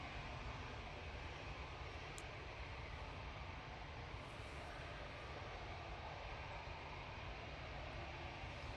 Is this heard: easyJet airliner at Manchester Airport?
yes